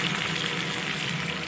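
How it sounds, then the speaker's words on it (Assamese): Pieces of khoria fish fry in oil in a kadai on a gas stove, giving a steady, dense, close sizzle that holds evenly throughout without pause. "এতিয়া মই এই মাছৰ পিচকেইটা গেছত এখন কেৰাহী পাতি ইয়াতে ফ্ৰাই"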